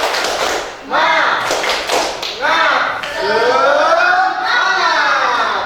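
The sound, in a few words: children's rhythmic motivational clapping (tepuk semangat)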